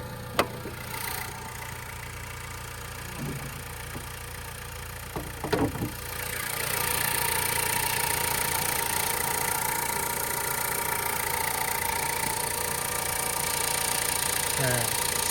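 A Ford Focus engine idles while warming up, a low, steady hum that is faint at first and grows fuller after a few seconds, with a few brief knocks and clicks early on.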